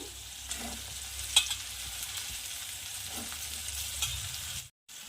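Peas tipped into a pan of softened, frying tomato sizzle steadily for several seconds, with a few clinks and stirring scrapes before cutting off.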